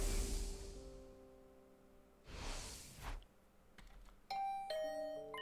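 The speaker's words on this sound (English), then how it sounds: "Was that my doorbell?" A doorbell in the video game The Hundred Line chimes with sustained ringing tones, followed by soft whooshing swells and a brighter sequence of chiming notes, with no talking.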